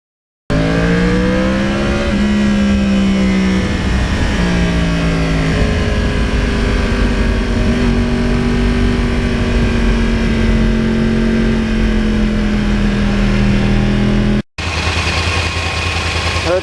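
A 2009 Yamaha R1 Crossplane motorcycle engine drones loud and steady from the rider's seat on twisty roads, its pitch rising and dipping through gear changes before a brief cutoff and resumption.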